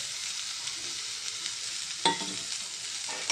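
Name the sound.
frying cauliflower with salt, chili and coriander powder, stirring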